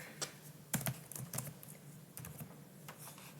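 Name and birth date being typed on a computer keyboard while setting up a swim meet with seeding, a few quick bursts of key clicks spaced irregularly, close and fairly quiet, with no talking.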